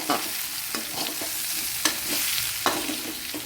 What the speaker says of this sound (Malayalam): ഇനി നമ്മൾ ഇതിനകത്തേട്ട് നമ്മുടെ ഓലോലിക്ക അങ്ങോട്ട് ഇട്ട് കൊടുക്കും